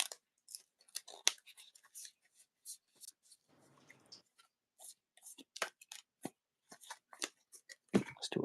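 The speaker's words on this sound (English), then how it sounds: "me make sure I get a damn good shuffle." Dragon Ball Super Fusion World trading card deck being shuffled steadily, a close run of quick papery flicks and riffles with a brief soft rustle midway, no voices.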